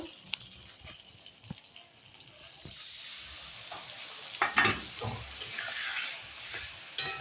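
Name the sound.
frying flat beans in a pan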